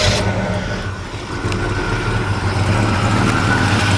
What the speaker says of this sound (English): Go ahead and fire this one up for you here.